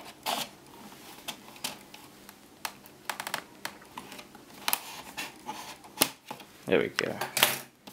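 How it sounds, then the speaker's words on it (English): Scissors cut open the packaging of a Bamboo Pen & Touch tablet, heard as a run of sharp, close snips and rustling plastic and cardboard, with brief speech near the end. "And I'm back with some scissors."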